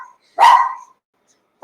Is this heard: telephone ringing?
no